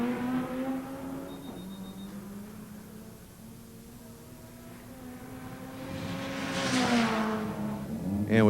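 Drag race car with a 1.6-liter single overhead cam engine at a 1999 import drag racing event, engine droning steadily then rising in a loud revving surge near the end, heard from a distance with faint crowd ambience.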